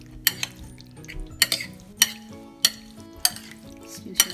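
Pancit guisado noodles stir-fried in a pan: sharp utensil scrapes and clanks against the metal land every half second or so over a soft sizzle, close and fairly loud with no talking.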